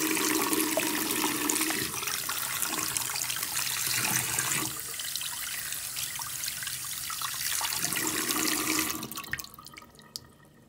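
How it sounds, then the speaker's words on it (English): Cold tap water runs hard into a sink while a sun print is rinsed, a loud steady gush that softens and changes tone midway, then surges again before cutting off near the end. "now I'm going to run to the sink and wash it in cold water"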